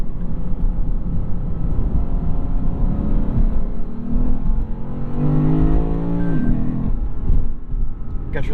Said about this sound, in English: You cannot beat the sound of a naturally aspirated 5-liter V8.